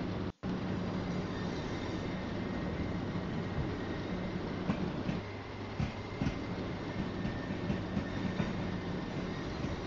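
Train running on rails near Strood at a slow pace under a 50 mph limit, with a steady, loud rumble of wheels and carriage noise throughout and a few brief clicks from the track.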